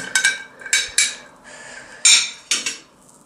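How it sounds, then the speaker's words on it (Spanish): A spoon stirs a Dark Lady cocktail of 60 ml aged rum in a glass, giving several sharp, close glassy clinks in an uneven rhythm with no talking. "Con una cuchara removemos un poco"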